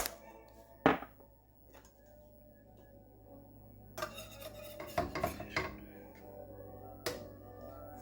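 Ribeye steak being flipped in a hot pan with garlic powder, giving a few sharp clanks and scrapes of metal against the pan over a steady low sizzle, with a cluster of clatter in the middle.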